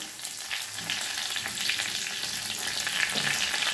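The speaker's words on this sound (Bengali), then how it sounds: "এবার ফোড়নটা ভেজে নেব খুব ভালোভাবে।" Dry red chillies, a torn bay leaf and panch phoron spices fry in hot oil, giving a continuous close, even sizzle with fine crackling throughout and no speech.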